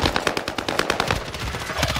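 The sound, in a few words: M13 SMG gunfire in a video game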